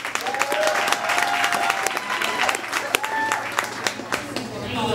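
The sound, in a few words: audience clapping and applause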